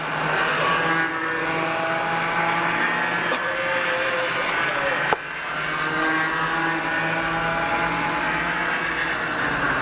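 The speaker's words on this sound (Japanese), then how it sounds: "小雨降る中のカデットオープンクラスのタイムトライアル" Yamaha cadet racing karts drone around a circuit during a time trial in light rain, with a steady buzzing engine note from passing karts and a brief sharp knock midway.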